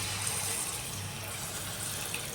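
Continuous splashing gush of water being poured into a pan of garlic and chili fried in oil for egg curry, steady and fairly close, with no talking.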